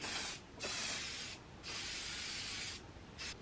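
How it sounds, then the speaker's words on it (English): Several bursts of aerosol spray hiss close up onto a feather boa, separated by short pauses, the longest burst running over a second. "I'm gonna spray that feather boa."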